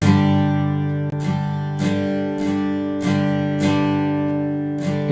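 Several stacked guitar recordings play a polyrhythmic part together without autopan, so the sound stays static in the stereo field. Bright strummed attacks repeat about every half second over a sustained, layered chord bed at steady loudness.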